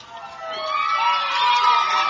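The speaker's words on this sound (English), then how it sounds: "The North Knox Warriors right now cheering." Home crowd of North Knox Warriors fans cheering at their homecoming high school football game against the Linton Miners, a steady, loud roar of shouts and whoops that swells and holds throughout.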